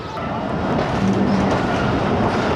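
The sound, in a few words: train on the Lahore to Narowal branch line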